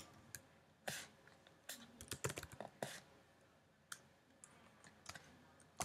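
Code being typed on a computer keyboard: quiet, uneven clicks and clacks with short rapid flurries and pauses, close by, with no speech.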